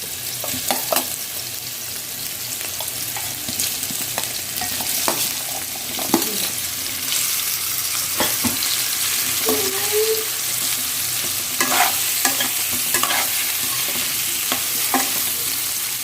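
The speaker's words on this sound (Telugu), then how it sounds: "మీడియం ఫ్లేమ్లో కొంచెం లైట్గా కలర్ వచ్చేలాగా ఫ్రై చేసుకోవాలి." Elephant yam pieces fry in oil over a medium flame, a steady close sizzle with occasional scraping stirs and clinks of the utensil against the pan, no voices.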